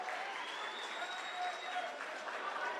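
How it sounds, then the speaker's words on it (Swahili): Audience applause at an ODM political rally in Eldoret, steady dense clapping from a large crowd sustained throughout at an even, moderate level. "Let's clap for him as he presents the memorandum"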